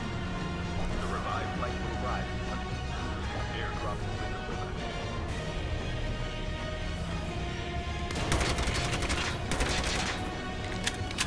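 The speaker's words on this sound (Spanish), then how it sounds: "decidí utilizar una granada de racimo para hacer que el jugador pierda la cobertura" A cluster grenade detonates in Call of Duty Mobile, letting off a quick burst of crackling blasts near the end, over steady game noise and background sound with a voice talking.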